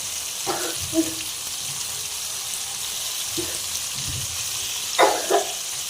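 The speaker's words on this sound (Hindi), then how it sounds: "तो ये देखिए माशाल्लाह ज़बरदस्त फ्राई होने वाले हैं।" Chicken pops deep frying in hot oil give a steady bubbling hiss, broken by a few sharp clinks and scrapes of a utensil against the pan.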